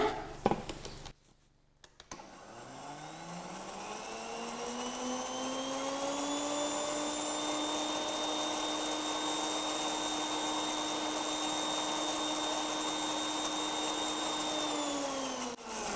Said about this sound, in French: Et comme ça, on va mixer